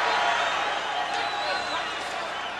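A boxing arena crowd during a fight between Sugar Ray Leonard and Larry Bonds gives off a steady, loud wash of cheering and roaring that carries through the whole moment, with commentary heard underneath.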